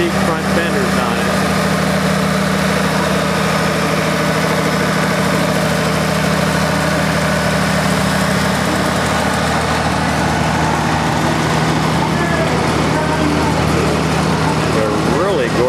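A John Deere 1026 tractor, parked at an outdoor show, idles with a steady low rumble that holds constant throughout, under a bed of faint crowd and background noise.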